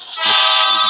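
A loud, sustained horn sounds close by for just under a second, a steady toot with no pause and a faint low rumble underneath.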